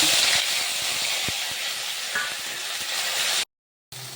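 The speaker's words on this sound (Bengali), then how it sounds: "এবার দিয়ে দিলাম পটল, আলু আর বাঁধাকপি" Pointed gourd, potato and cabbage frying in oil spiced with mustard seed, dried chilli and curry leaves, giving a steady, loud broadband hiss with faint clinks, cut by a brief silence near the end.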